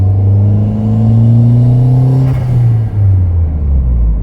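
Turbocharged Ford Figo engine droning loudly from inside the car while driving, with a steady low rumble that rises in pitch, then drops as a gear change cuts in and the revs climb again.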